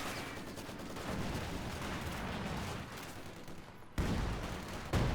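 Artillery rounds strike a building in Company of Heroes 2, a continuous rumbling barrage of gunfire and blasts with a sharp, louder impact near the end.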